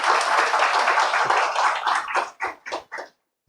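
An audience gives a welcome at Pandav Bhawan in Delhi with a burst of loud, dense clapping. It thins toward the end into a few separate claps, then falls silent.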